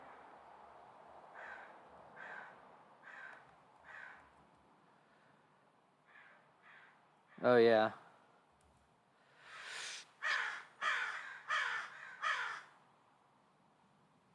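Crows caw outdoors in loud, harsh bursts: a run of four calls, a pair of softer ones, a very loud single caw, then a fast series of five or six, with a brief spoken remark mixed in.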